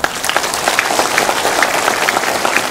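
An audience at a fundraising concert in Dallas breaks into applause, a dense, lively patter of many hands clapping steadily throughout the short stretch.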